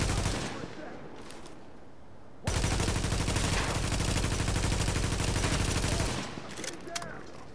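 Assault rifle gunfire in The Division video game: a sustained burst of rapid automatic shots fills the middle of the clip, loud and continuous, with brief shots before and after.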